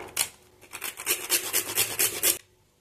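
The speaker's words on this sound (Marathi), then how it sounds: "इथे एक जायफळ आपण किसून टाकूया" A whole nutmeg is grated by hand to flavor a jaggery filling for gul poli, giving close, rhythmic rasping strokes, about a dozen in quick succession, that stop abruptly.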